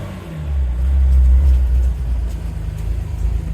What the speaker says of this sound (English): the first thing I noticed behind the wheel of this lovely 1995 Carrera 2 993 911 is just how similar it sounds